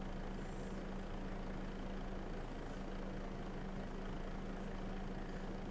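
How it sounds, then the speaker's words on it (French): Tractor engine droning steadily at a distance, a constant low hum with a faint tonal line, fairly quiet and unchanging, with no talk. "Juste on va attendre que lui passe avec son tracteur"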